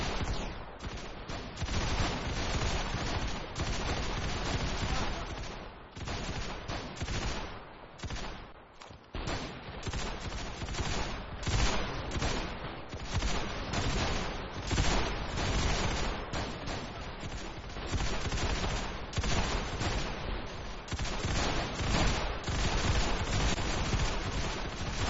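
Dense, nonstop battlefield gunfire from Ravenfield set in the 1904 Russo-Japanese War: rifle and machine-gun fire crackling without pause, loud and close, with scattered distant booms and no talk.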